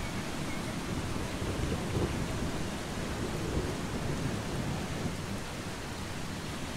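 Dense steady rain with low rolling thunder in the Eastshade video game, a continuous loud wash of downpour with deep rumbles swelling around the middle.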